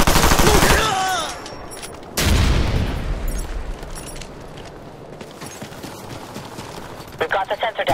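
In the video game Ghost Recon Future Soldier, bursts of gunfire crackle, then a loud, sudden frag grenade blast hits and fades into a long rumbling tail. A final rapid volley follows, and voices talk between the shots.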